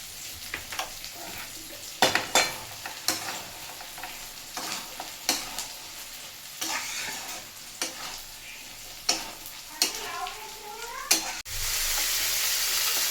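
Tomato with salt, turmeric and cumin powder fries in a pan with a steady sizzle, broken by repeated spatula scrapes and stirring knocks, ending in a louder burst of hiss.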